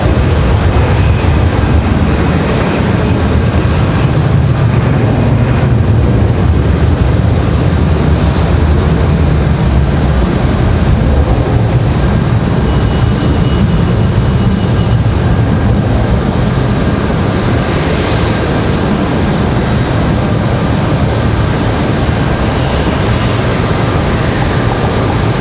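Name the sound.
Delta CRJ jet airliner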